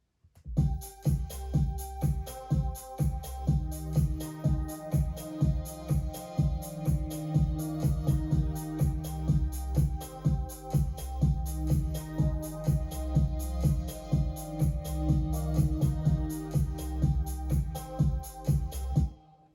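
A relaxed instrumental loop with a steady beat, warm bass and layered melodic parts repeating evenly throughout, no vocals.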